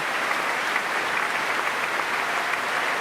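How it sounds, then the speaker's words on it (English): An audience at the Royal Albert Hall applauds the principal horn soloist after a Proms concert of Wagner and Strauss, a broad, sustained wash of clapping from a large crowd, steady throughout. "Applause for the principal horn."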